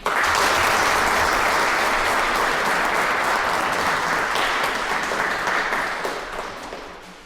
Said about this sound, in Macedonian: Ве молам со еден голем аплауз да ги поздравиме сите учесници.